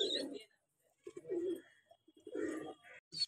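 Pigeons coo in several low, soft bursts with short pauses between them, close by in a home loft where a young chocolate-and-white pigeon is kept, with a few faint higher chirps mixed in.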